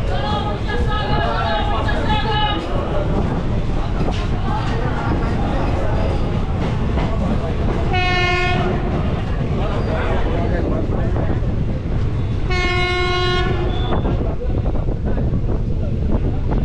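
A passenger train on the Azimganj to Krishnanagar City line in Nadia district runs with a constant loud rumble and wind buffeting, sounding two long horn blasts over the din, while a voice talks briefly at the start.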